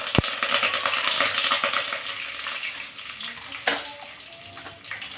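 Curry leaves and mustard seeds spluttering in hot oil for a brinjal curry, a dense steady crackle and hiss with a few sharper pops, close and continuous with no talking.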